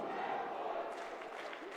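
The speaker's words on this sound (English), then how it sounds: "A Let's Go Redwoods chant from the crowd here in Sandy, Utah." A lacrosse crowd chanting at a quarterfinal game in Sandy, Utah, a faint, distant rhythmic chant of massed voices over steady arena noise.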